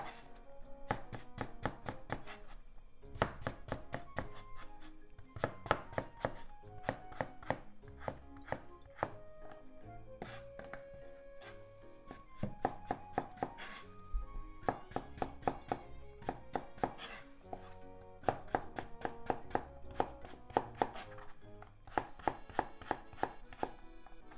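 Steady run of crisp knife chops on a cutting board as a cucumber, ends trimmed and halved lengthwise, is cut into thin diagonal slices for an onion and wakame seaweed salad; rapid, close, even taps continue throughout with no talking.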